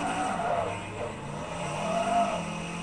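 Car engine in the racing game Forza 3 during a drift, a steady droning engine note that rises and falls slightly with throttle, moderately loud with no talk over it.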